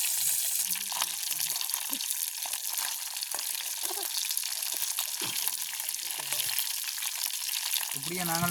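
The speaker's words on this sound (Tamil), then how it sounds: "இப்படியே நாங்கள் மீனையும் பொறித்து எடுப்போம்" Fish sizzles steadily in hot oil in a pan during outdoor village-style cooking, a continuous close frying hiss with occasional small clinks and stirring knocks.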